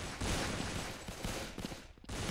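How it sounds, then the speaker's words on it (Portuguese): Pistol gunfire in the shooter game Blood Strike: a dense, loud burst of rapid shots crackling almost continuously, with a brief gap near the end before the firing resumes. "Tô errando todos os tiros possíveis no cara"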